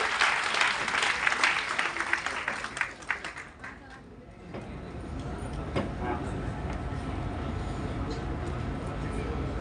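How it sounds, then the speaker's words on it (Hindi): Loud applause fills a company meeting hall, dense clapping that fades briefly before a steadier crowd murmur and scattered claps carry on with voices. "एक बार जबरदस्त जोरदार तालियां इसके लिए"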